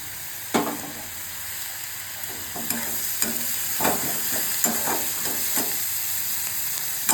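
Onions frying in a pan for pav bhaji, with a steady sizzle throughout, broken by intermittent stirring scrapes and clinks of a spoon against the pan.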